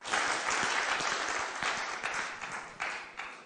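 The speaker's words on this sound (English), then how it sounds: "Can we give the best clap offering for God?" Congregation giving a clap offering in church, a burst of many hands clapping at once, loud at first then fluctuating and gradually thinning over a few seconds.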